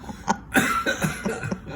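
A few short, close coughs in quick succession, loud and isolated with no talking.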